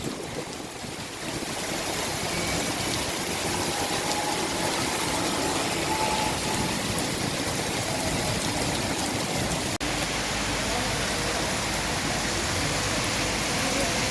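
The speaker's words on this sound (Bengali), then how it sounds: "বৃষ্টি হইতেছে বাতাস" Steady rain with gusting wind after a spell of intense heat, a dense continuous broadband hiss that stays loud and even throughout with no voices.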